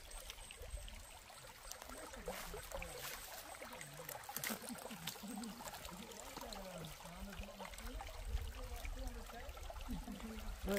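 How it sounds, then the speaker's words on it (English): Water runs down a creek on the way to Bell's Gorge, a steady trickling and gurgling flow heard close by, continuous and alone for the whole stretch. "Pleasant sound of water running down the creek."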